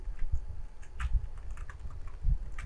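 Quick keystrokes on a computer keyboard, copy-and-paste shortcuts tapped in short irregular bursts of clicks, close and moderately loud with no talking.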